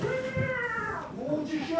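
A small cat meows with a rising, drawn-out cry, heard close and fairly clear over faint room noise in a village house.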